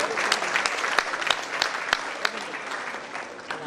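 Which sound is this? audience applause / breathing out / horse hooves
audience applause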